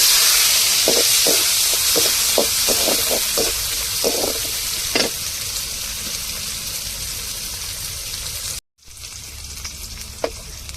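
Mustard seeds and shallots hit hot oil with a loud, steady sizzle. Quick crackling pops come early, and the sound cuts out briefly near the end before the frying hiss resumes.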